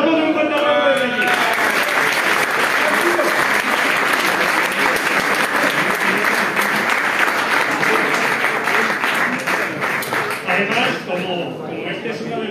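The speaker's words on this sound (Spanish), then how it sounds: "les damos un fuerte aplauso de aquí" An audience at a homebrew beer award ceremony claps loudly and continuously, a dense sustained round of applause that thins slightly near the end, with a voice talking over the start.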